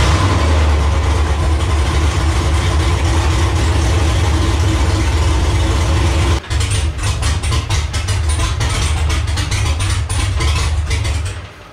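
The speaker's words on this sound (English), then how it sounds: "I'm gonna plug in this throttle pedal, start it up, and see if we get some throttle response out of it." A Camaro V8 idles loudly and steadily at close range, its deep rumble holding even, then shifting to a choppier, pulsing idle partway through.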